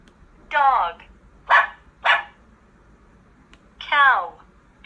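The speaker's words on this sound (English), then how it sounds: "Dog." A dog barks four times in short, sharp yaps, fairly close and clear, with brief gaps between them.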